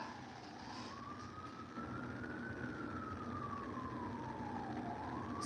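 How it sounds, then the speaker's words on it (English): An emergency vehicle siren wailing in a slow rise-and-fall sweep, heard faintly at a distance over steady background rumble. "You hear those sirens up?"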